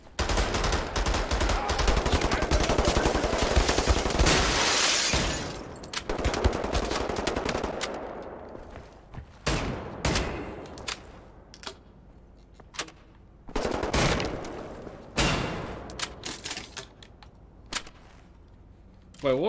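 A machine pistol rattles in Wolfenstein: The New Order, with long loud continuous bursts at first, then shorter separate volleys and single sharp shots after it.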